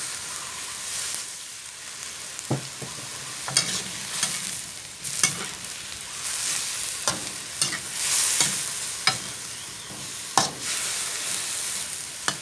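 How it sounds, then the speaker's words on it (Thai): Mixed vegetables and minced pork stir-fried in a pan with a little added water, a continuous near sizzle punctuated by repeated sharp spatula scrapes and clanks against the pan, no talking. "ก็ผัดไปเรื่อยๆดีกว่า ผักเขาจะสุกเนาะ"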